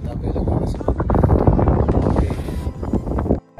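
Strong wind buffets the microphone on a fishing outing, a steady low roar throughout with a voice speaking over it, cutting off sharply near the end.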